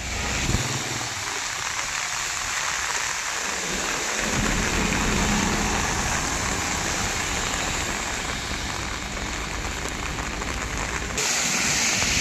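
Heavy rain pours steadily in a town in Tamil Nadu, a dense, loud, continuous hiss that stays unbroken throughout, with a deep rumble underneath.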